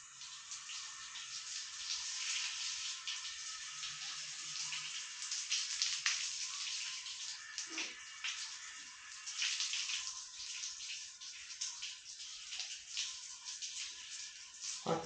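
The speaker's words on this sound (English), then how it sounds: "You can sit here with this water hose and you can get it wet and you can watch it change." A garden hose sprays water onto a bowed wooden board in a garage, a steady hissing splatter that runs the whole time at moderate level, with a brief knock partway through.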